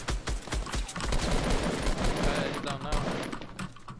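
Rapid automatic gunfire from the video game Fortnite rattles in dense, continuous bursts, loud and close throughout.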